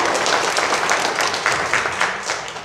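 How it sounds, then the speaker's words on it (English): Church congregation applauding during a Sunday service, a steady wash of many hands clapping at close range, holding level for nearly three seconds before thinning slightly at the end. "So big round of applause for Amy."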